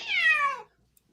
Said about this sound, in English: That time it was Budo's cat.